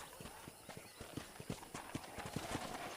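Steady clip-clop of horse hooves trotting at a regular rhythm in Red Dead Redemption on PS3, over a constant background hiss, fairly faint.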